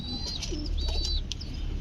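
Pigeons coo low and close in a loft, the soft burbling joined by thin high chirps and a faint flutter of wings over a steady ambient hum.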